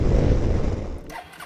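A Suzuki Burgman 200 scooter (2018) engine starting by touch start with a brief whirring crank and catching into a loud idle, then settling lower.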